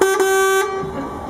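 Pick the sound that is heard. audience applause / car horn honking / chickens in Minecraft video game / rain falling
car horn honking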